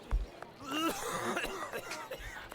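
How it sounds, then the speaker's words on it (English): A few harsh coughs up close, with throat-clearing sounds between them. "Coughing!"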